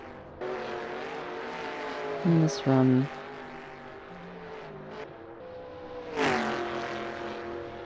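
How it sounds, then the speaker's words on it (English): Race car engines roar along a track during a 1970s-style NASCAR run by the Santa Ana River, a steady loud drone with a couple of rising revs and a car sweeping past, while a commentator talks over it. "I really do love the engine noise. They just sound like roaring, hunting animals."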